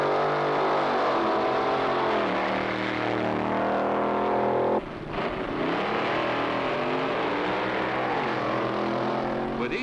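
A Chevy-powered B-Comp drag racing car at the 1963 NHRA Winternationals in Pomona, California roars loudly with rising, revving engine tones, cuts off briefly, then revs and accelerates again with a strong harmonic howl.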